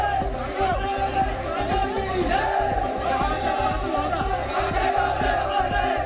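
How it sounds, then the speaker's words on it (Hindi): A dense crowd at a soldier's funeral procession in Pimpalgaon Sarai, Maharashtra, chants slogans in a steady rhythmic cadence, loud and massed, with overlapping shouts and general hubbub. "लोगों की भीड़ गावटे अक्षय अमर रहे और भारत माता की जय के नारे लगाती सुनाई पड़ी"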